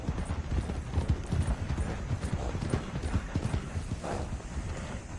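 Video game horse hooves: rapid clip-clop of galloping, steady, close and fairly loud, with a brief whinny-like sound near the end and no talking.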